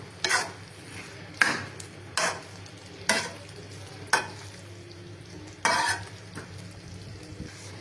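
Chhana and vegetable curry with leaves stirred in a pan: a spoon scrapes the pan in sharp repeated strokes about once a second over a low steady sizzle.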